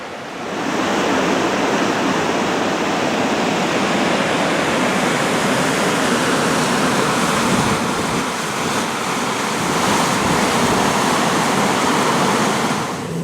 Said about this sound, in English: And the waterfall's just up there.